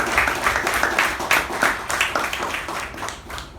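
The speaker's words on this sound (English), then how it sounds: "let us give our president a huge round of applause." A room full of people at a club meeting bursts into a round of applause, dense overlapping claps holding loud and steady for a few seconds before easing slightly.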